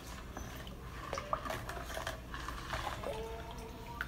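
A spoon stirs sugar into homemade Trinidad and Tobago sorrel juice, making quiet, irregular clinks and scrapes against the container with a faint liquid swirl underneath.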